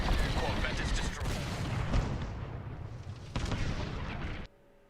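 A corvette explodes in the Star Wars: Squadrons space-combat game, a loud sustained rumbling blast with crackling bursts, a second surge near the end, then an abrupt cutoff.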